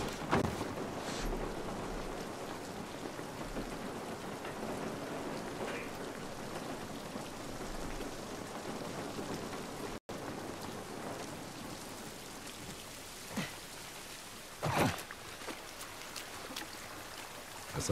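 Steady rain in the video game The Last of Us Part 1 remake, a continuous hiss of rainfall with occasional louder splashes and brief low rumbles, no voices.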